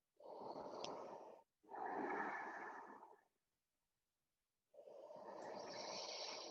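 Close, airy breaths during a yoga stretch: two long exhales in quick succession, a pause of silence, then another long, soft breath.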